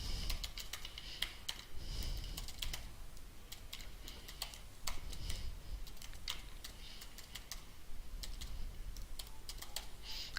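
Rapid, close clicking of computer keyboard keys as personal details are typed in, steady bursts of taps with short pauses, no voices.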